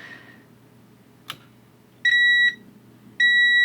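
A multimeter's continuity tester beeps while probing a circuit board trace: a soft click, then two steady, clear electronic tones, the second one longer, over a quiet hum.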